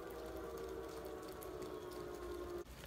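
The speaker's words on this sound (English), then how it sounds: "So that's the warning siren for our tsunami." A tsunami warning siren in Kodiak, Alaska, sounds during a weekly Wednesday test as a faint, steady distant wail held for a few seconds before cutting off, with no voices.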